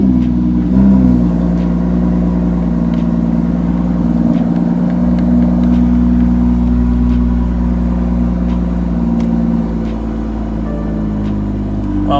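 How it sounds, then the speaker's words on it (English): A BMW M2 engine runs steadily close by, a low continuous hum with a brief bump early on as it catches and settles into an even idle. "Maybe I have to turn the engine on for that."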